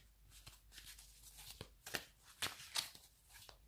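Oracle cards from a ritual deck are shuffled and drawn at close range. The sound is a quiet run of soft, papery riffles and flicks in an uneven rhythm.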